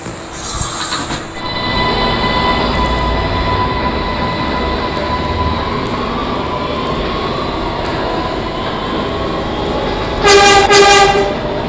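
A subway train rumbles steadily along the track from the cab, with sustained wheel squeal and brief bright horn or signal tones near the start and again near the end.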